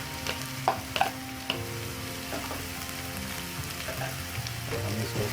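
Chopped onion, chillies, celery leaves and other vegetables fry together in a pan for veg Manchurian, a steady sizzle broken by a few sharp pops and clinks early on, close and without speech.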